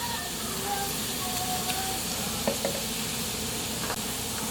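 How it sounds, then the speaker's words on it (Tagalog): Onions sizzle and fry steadily in a pan while pork adobo is being cooked, a constant close hiss with a few faint clinks and stirring scrapes on top. "So, susunod natin nilagay ang sibuyas."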